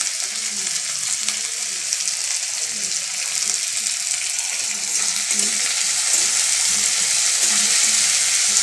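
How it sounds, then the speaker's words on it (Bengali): Onions with green chillies and salt frying in a pan, a loud continuous sizzle that stays close and steady and swells slightly toward the end. "পেঁয়াজটা ভাজা হয়ে গেছে"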